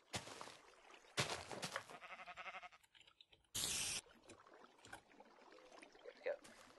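Sheep in Minecraft bleat in short, moderately loud bursts separated by pauses, with a bright noisy burst partway through and quieter rustling game sounds between.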